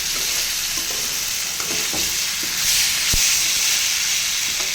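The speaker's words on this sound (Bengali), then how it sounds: "এরকম আস্তে আস্তে সুন্দর করে ভেজে নিতে হবে।" Sweet pumpkin frying slowly over low heat gives off a continuous hissing sizzle, with occasional spatula scrapes and one sharp clink against the pan, heard up close and without voices.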